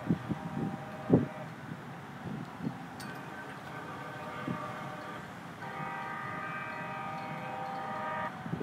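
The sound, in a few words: city light rail train passing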